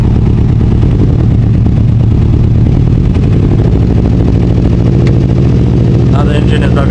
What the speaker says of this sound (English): now the engine is revving higher